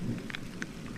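Heavy rain beats down continuously, with a low thunder rumble beneath the dense patter of drops and no voices.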